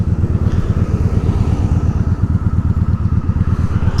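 A 2001 Honda Shadow ACE 750 motorcycle engine thrums steadily on a test ride, a loud, close, even low-pitched throb with a rapid pulsing beat and no voices.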